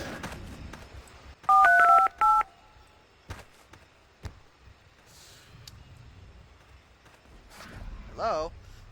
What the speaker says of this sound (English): A phone.